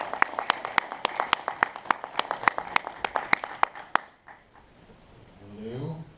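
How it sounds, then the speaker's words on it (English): An audience applauds a speaker at a university lecture event, with roughly four seconds of steady, evenly spaced clapping that stops abruptly, followed by quieter room sound. "Let us give him a round of applause"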